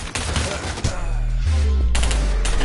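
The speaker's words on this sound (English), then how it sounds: "shoot yourself in the head" Gunfire in the Pavlov VR shooter game: a burst of loud, rapid shots opens the clip, followed by a lull with a low hum, then another dense volley near the end.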